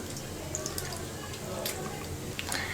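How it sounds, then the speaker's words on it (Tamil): A hand mixes tamarind water with crushed pepper, cumin and garlic for rasam, giving soft, continuous wet sloshing and squishing with small drips close by. "இதையும் இப்போ சேர்த்து நல்லா கரைச்சிக்கலாம்"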